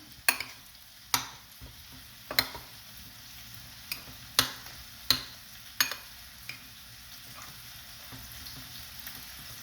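A botana mixture with chorizo being stirred in a pan, with a quiet sizzle beneath a series of crisp, evenly spaced spoon scrapes and taps against the metal, repeated around ten times.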